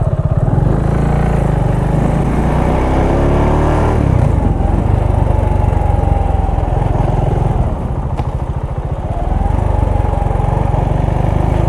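A KTM Duke 690 motorcycle on the move, its single-cylinder engine thumping loudly and steadily, with pitch rising as it revs through gears and a brief dip before it pulls again.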